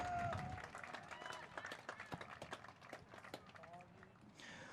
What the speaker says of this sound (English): How about a big round of applause for number 27